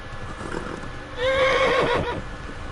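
A horse in the medieval game Kingdom Come: Deliverance lets out a loud, close whinny that rises and falls over about a second, with faint hoofbeats clip-clopping beneath and before it.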